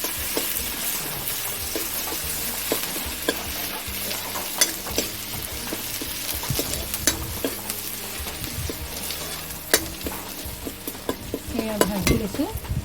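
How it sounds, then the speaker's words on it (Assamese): Ginger-garlic paste fries in hot oil with five-spice seeds while a mustard fish curry is being cooked, making a continuous sizzle with frequent stirring clinks and scrapes against the pan, and no speech. "এয়া অকণমান ভাজি থাকিব লাগিব।"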